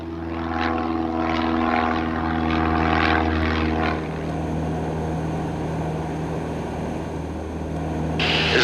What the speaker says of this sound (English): Cherokee 60 Tango, Long Beach Tower, runway 16 right at Delta, clear for takeoff right